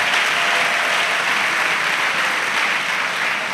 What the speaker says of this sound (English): Clap for the Holy Spirit.